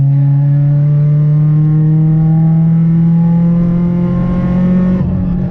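Stripped-out, straight-piped Honda Civic EP3 Type R track car heard from inside while driving, a loud, steady droning engine note rising slowly in pitch as it pulls, then easing off at the end.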